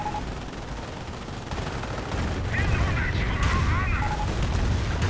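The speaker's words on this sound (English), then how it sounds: "A Calliope barrage knocking out one of the Stuks" Calliope rocket artillery barrage in a World War II strategy game, a dense stream of rapid explosions and launches that swells louder midway and keeps pounding steadily, with whistling streaks riding over the rumble.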